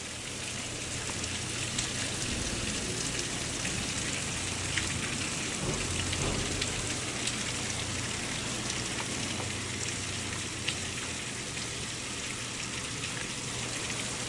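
Rain pattering steadily on a garden with woodchip-covered beds and plants, a dense, even hiss of drops with occasional sharper taps, continuous throughout and without any voices.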